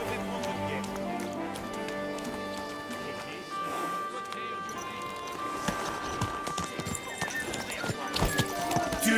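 Horse hooves clip-clop steadily and a horse whinnies in the Kingdom Come Deliverance 2 video game, heard over background music with voices talking.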